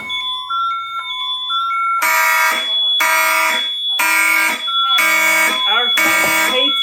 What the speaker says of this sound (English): Alarm. All right, let's make this way louder.